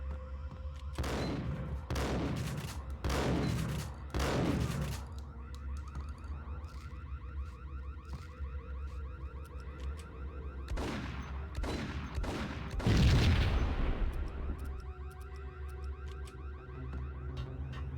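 Shotgun blasts in Max Payne, four heavy booming shots in quick succession, then a pause before two more loud blasts, each with a decaying tail over a low steady hum.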